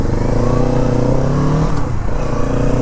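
A 2022 Kawasaki Z650 RS retro 650cc motorcycle engine revs loud and close, its deep steady drone climbing in pitch for about two seconds before easing off, with no talking.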